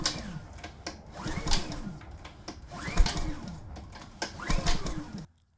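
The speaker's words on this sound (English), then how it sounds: "Let's crank it a couple more times while we got it open." A generator engine is cranked with its carburetor bowl open, giving three repeated pull-start cycles of rasping, whirring turnover, each swelling and fading, before it stops abruptly.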